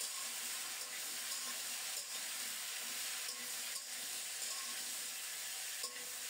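Vegetables hiss and sizzle in hot oil tempered with black cumin, salt and chopped green chillies, a steady soft frying sound with occasional stirring scrapes.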